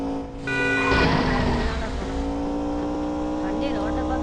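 A car in the Indian Theft Auto video game drives with a steady engine drone and a sharp tire skid near the start, continuing loudly and evenly afterward.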